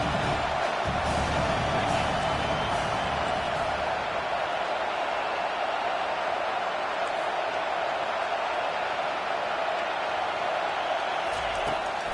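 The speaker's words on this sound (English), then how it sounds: "Man, this crowd really affecting the football game." A college football video game's home crowd roars in a dense, unbroken wall of cheering that holds loud and steady throughout, with no breaks.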